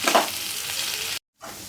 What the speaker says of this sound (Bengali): এখন আমি পেঁয়াজটাকে ভেজে নিচ্ছি, ভালো করে তেলেতে একটু ভেজে নিচ্ছি।